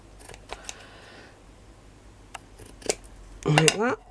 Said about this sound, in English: I'm going to turn mine upside down to cut it.